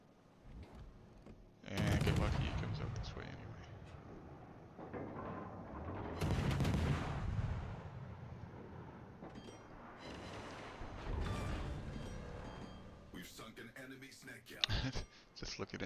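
Gunfire in a video game: several loud bursts of shots and explosive booms spaced a few seconds apart, mixed with mechanical clatter, while a person talks over it.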